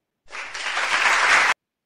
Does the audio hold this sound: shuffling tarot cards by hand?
no